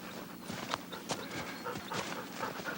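A four-dog sled team pants and whimpers close by, with quick, faint breaths and small yelps scattered over a soft outdoor background.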